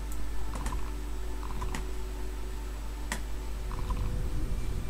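Rapid clicking from a mouse or keyboard during a fish-eating simulator game, a run of sharp, close taps in quick bursts with a few louder isolated clicks, over a steady low hum and no voices.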